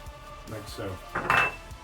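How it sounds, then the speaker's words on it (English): A spoon's back crushes a Campden tablet inside a small jar, producing a few short close scraping and clinking knocks of metal on glass, building to a brief louder grind near the end. "you're just going to crush it with the back of the spoon"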